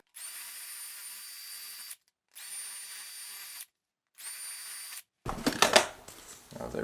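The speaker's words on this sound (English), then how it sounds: "I'm just going to bore these out just a little bit" A power drill whines in three steady bursts of about two seconds each while boring out bolt holes on a shower drain, followed by scraping and rattling of metal parts nearby.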